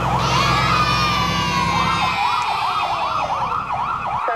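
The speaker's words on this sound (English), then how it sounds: "This is a fire truck." A fire truck siren wails loud and near, holding a steady tone before switching into a fast rising-and-falling yelp pattern, with a low engine rumble underneath that fades out partway through.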